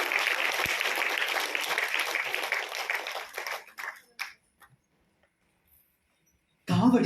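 An audience claps in applause to honour teachers, a dense steady patter that thins and dies away into silence, after which a voice begins.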